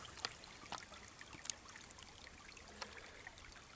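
A woodland creek trickles softly at a distance, a faint steady wash of water broken by a few sharp crackles and taps.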